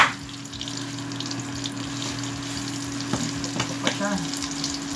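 Tuna and eggplant omelette frying in a pan of hot oil, a constant sizzle broken by sharp pops and crackles of spattering oil, several louder snaps near the end, close up and with no one talking.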